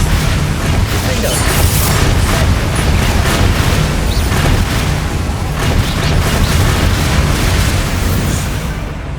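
Bombarda and Confringo spell explosions from the video game Hogwarts Legacy, a loud, continuous barrage of booming blasts and bursts that fills the whole stretch without pause.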